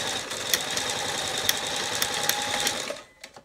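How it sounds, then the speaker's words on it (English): A sewing machine runs a darn stitch while making an interlined pinch pleat curtain with buckram, a steady fast whirring hum with light mechanical ticking that stops abruptly near the end. "So this machine now will be on a darn. You put it on a darn stitch"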